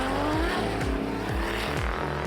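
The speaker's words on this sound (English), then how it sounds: "You can hear the anti-lag as he's getting on and off the throttle." A drift car at Sydney Motorsport Park, during a 2024 Drift Allstars round, roars loudly with rapid anti-lag pops and crackles as the throttle is blipped on and off, the engine note rising and falling in quick steps.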